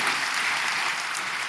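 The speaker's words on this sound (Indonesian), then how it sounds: "Ayo beri tepuk tangan buat Tuhan kita sekali lagi" A church congregation applauds during a Sunday worship service at Bethany church in Nginden: dense, steady clapping from many hands fills the room without a break, with no voice on top.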